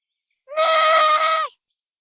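A voice imitating a dog's bark that comes out as a single drawn-out, wavering sheep-like bleat, about a second long, clear and close against silence, with a tiny trailing sound after.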